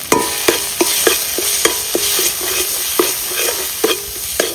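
Onion paste, ginger paste and turmeric sizzle in a pan while a spatula stirs, giving a steady frying hiss with regular clinking scrapes about every half second and no talk.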